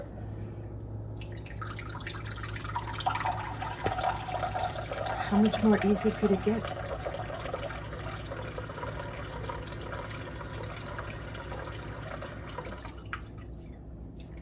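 Filtered water dispenses from a SimPure Y7 countertop reverse osmosis filter into a small glass, a gentle trickling pour in the middle over a low hum, with a person talking near the end.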